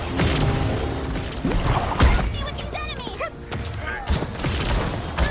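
Sniper gunfire in the video game Paladins, sharp shots scattered among busy in-game effects and clatter, with a couple of louder cracks and a steady dense background of game sound.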